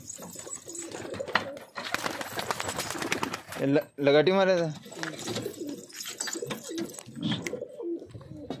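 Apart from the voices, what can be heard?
pigeons cooing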